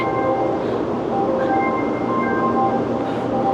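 A Taiwanese high-speed bullet train runs past during a typhoon, making a steady, loud rumbling roar with a thin tonal whine that holds throughout.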